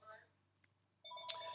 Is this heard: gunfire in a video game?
no